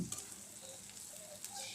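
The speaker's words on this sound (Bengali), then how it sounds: "এটা কিন্তু খুব বেশি ভাজা যাবে না পেঁয়াজগুলো" Chopped onions fry quietly in a pan, a soft, low sizzle with faint scraping and stirring sounds, close by and without any voices.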